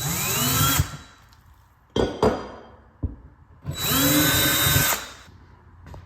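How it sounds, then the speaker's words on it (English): A power drill whirs into drywall in two bursts of a second or so each, separated by clicks and handling noises, close and fairly loud. "I'm going to drill my hole"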